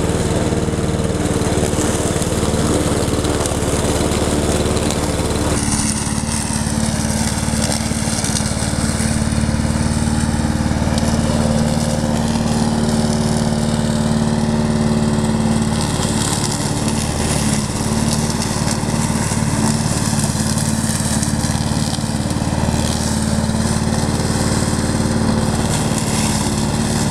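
A Champion 5347 self-propelled petrol lawn mower runs continuously while mowing grass, a loud, close, steady engine drone with a slight shift in tone partway through and no talk.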